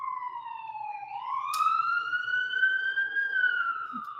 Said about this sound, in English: I got a siren going by